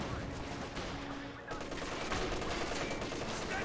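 An MG34 machine gun fires during a Company of Heroes 2 battle, a dense rattling burst of gunfire running almost continuously at moderate level amid other battlefield noise.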